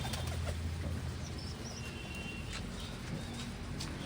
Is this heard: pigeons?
yes